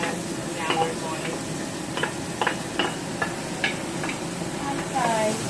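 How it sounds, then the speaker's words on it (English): Chopped onions sizzle and fry in a re-panned skillet for garlic chicken fried rice, a steady crackling hiss broken by scattered clicks of a utensil against the pan. "we're going to cook the chopped onions"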